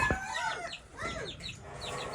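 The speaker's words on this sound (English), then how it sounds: "I'm checking on my chickens right now." Chickens cluck and call inside a coop, overlapping short clucks and squawks packed together in a busy, close flock, with no voices speaking.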